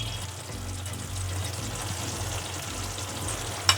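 A Kashmiri chicken curry simmers in a pan with a steady, close, low bubbling sizzle that holds throughout, ending in a brief sharp clink.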